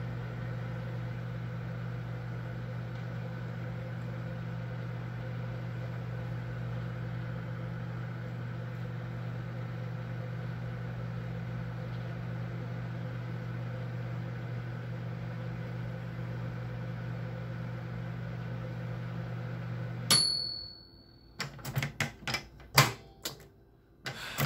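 A cheap microwave oven's steady electric hum drones on for about twenty seconds, then cuts off, followed by several sharp clicks and clacks.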